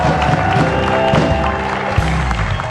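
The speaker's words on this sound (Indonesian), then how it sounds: "kita tepuk tangan dulu." A studio audience at an evening television talk show applauds with loud, dense, continuous clapping and crowd noise layered over music and background sound, sustained throughout.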